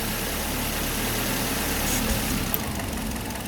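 A car engine idles with its sensor connector unplugged, a steady low rumble and mechanical whir running evenly throughout at close range, with a faint click near the end and no speech.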